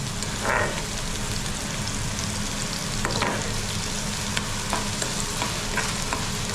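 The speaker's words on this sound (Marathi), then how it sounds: "भाजला पाहिजे कांदा मस्त गरम करून घ्यायचं तेलामध्ये" Chopped onion frying in hot oil in a pan, a loud, continuous sizzle with several sharper crackles and scraping stirs scattered throughout, no voices.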